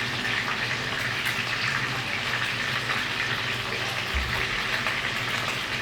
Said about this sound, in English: Now what I'm doing is just searing.